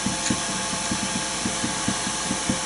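A wood lathe spins as a spindle gouge turns a chess queen, producing a steady whirring hum broken by regular soft rhythmic thumps of the cutting tool.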